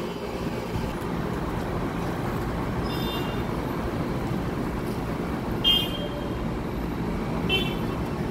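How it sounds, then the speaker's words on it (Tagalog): Road traffic passes on a street, a steady distant hum of cars with a couple of short horn toots, no talking. "Yung kotse"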